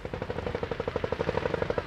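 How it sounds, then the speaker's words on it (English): Rapid automatic gunfire from soldiers shooting at houses across the Gaza border from an Israeli kibbutz, a steady fast burst of repeated shots running the whole stretch, fairly distant and unbroken by speech. "they were still firing on houses across on the Gaza side"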